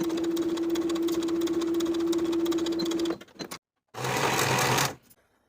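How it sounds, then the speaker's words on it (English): A sewing machine stitches the shoulder seams of a shirtdress bodice at a half-inch allowance, a steady close motor whir running for about three seconds, stopping, then a second short burst before it falls quiet. "Sew the shoulder seams with a 1/2 inch seam allowance"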